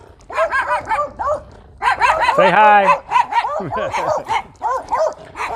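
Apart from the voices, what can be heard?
dogs barking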